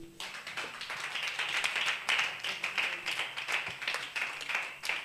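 A church congregation claps together in dense, steady rhythmic bursts to acclaim the Lord during a lively worship service in Bingerville, filling the space from start to finish.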